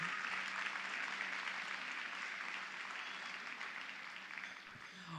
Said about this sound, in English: can we get a round of applause for all of our finalists for both the Promote and the Compass Awards?